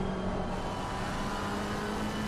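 Race car engine held at full throttle on the Brands Hatch circuit in a racing video game, a steady loud whining drone with a sustained tone that never lifts across the short stretch, no voices.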